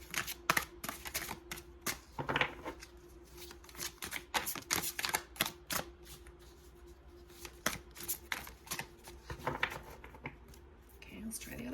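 A large, oversized tarot deck is shuffled by hand, giving repeated crisp riffles and slaps in uneven bursts close to the microphone, with brief pauses between them.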